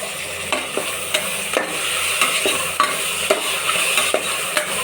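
Tomato and masala are sautéed for a mixed-legume veg biryani: a steady sizzle under rhythmic, close spoon-against-pan stirring strokes, roughly two per second.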